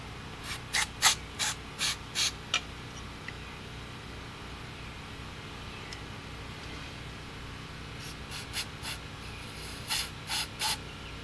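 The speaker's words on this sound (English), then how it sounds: "It must be clean because I spray it in here, we get wet here." Two sets of short, sharp aerosol cleaner spray bursts into the carburetor of an old John Deere R68 mower, several quick pulses each, separated by a quiet pause, over a low steady background hum.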